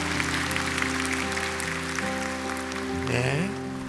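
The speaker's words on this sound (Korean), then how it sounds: "박수하겠습니다." A church congregation claps together during a Sunday worship service, a dense patter of hands sustained under steady organ-like music tones for a few seconds.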